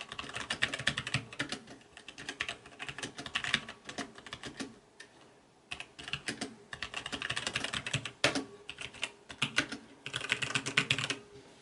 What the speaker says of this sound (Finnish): Kokeillaan kirjoittaa jotain tällä olulla näppäimistöllä.